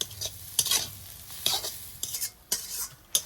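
Jute leaves stir-fried with onion and salt in a pan: close, repeated scraping stirs in short bursts over a soft sizzle, no voices.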